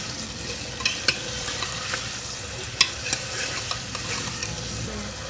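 Potato and cauliflower sautéing in a pan with asafoetida, cumin, fennel and bay leaf, a steady low sizzle broken by a few sharp scrapes and clinks of a stirring spoon, close and continuous with no talk.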